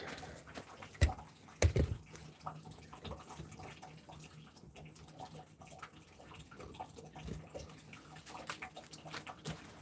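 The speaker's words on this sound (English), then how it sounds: "What you're hearing there is water coming down the rain gutter." Rainwater running down a rain gutter and draining away, a faint steady trickle and splash with a couple of louder thumps near the start, continuing alone without talk.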